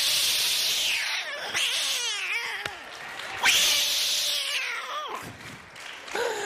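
A person vocally imitates cats in heat caterwauling, drawing out loud, wavering yowls and wails in several swelling bursts, with a studio television talk show as the setting.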